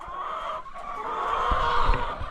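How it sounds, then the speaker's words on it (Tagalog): Pet chickens cluck steadily inside their coop, a close, continuous murmur of hen calls with slightly louder bursts toward the end. "dito tayo sa kulungan ng aking mga alagang manok na magtatrabaho ngayon"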